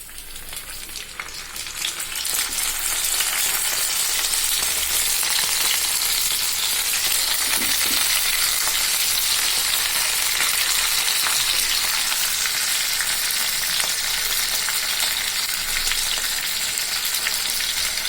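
Salted hilsa paturi sizzles in oil in frying pans set on stoves, a steady, dense crackle that holds evenly for the whole stretch, with no voices.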